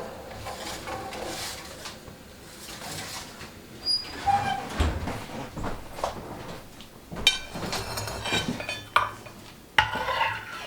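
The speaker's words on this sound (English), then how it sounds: "Give the pan a spin." A pan of everything bagel crisps is spun and handled in a kitchen, producing close scraping, rattling and sharp knocks in irregular bursts, with no speech.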